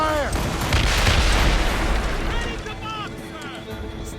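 Ship cannons fire during a naval ambush in Assassin's Creed Rogue, heavy booming blasts rolling over a low roar of sea and battle, with game voices calling out over the noise.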